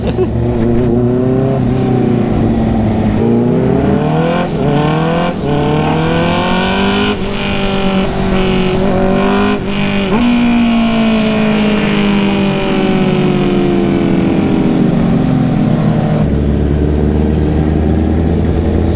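Honda CBR650R sport bike inline-four engine growling steadily with rising and falling revs, loud and close throughout, a continuous harmonic drone with shifting pitch.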